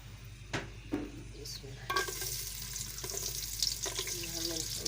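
Onions browning in hot ghee sizzle and crackle steadily up close, with a few clinks of a spoon or pan as they are stirred, and no talking.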